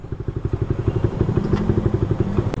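Yamaha Aerox race scooter with a 185cc engine and RC Mini X ECU, a close, loud, rapid pulsing engine putter running steadily with a light clatter near the end.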